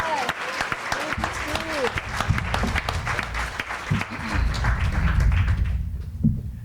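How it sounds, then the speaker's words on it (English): Applause for Steve at a native gardening Q&A, scattered clapping mixed with voices and chatter, tapering toward the end. "We got to clap for Steve."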